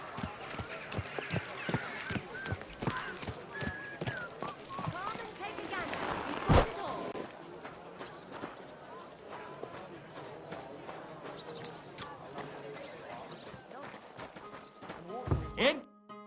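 Rhythmic clip-clop of horse hooves while riding in Kingdom Come Deliverance II, steady footfalls beneath a game soundtrack, with a sharp impact midway and voices speaking over it.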